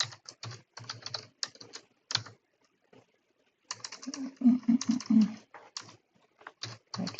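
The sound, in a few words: typing spaces on a computer keyboard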